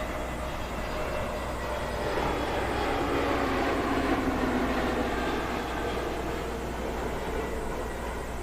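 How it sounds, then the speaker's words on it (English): A British Airways A320neo arriving from Warsaw comes in to land at London Heathrow, a steady distant jet roar that swells through the middle and eases slightly toward the end. "Clearance to land for the BA A320neo inbound from Warsaw."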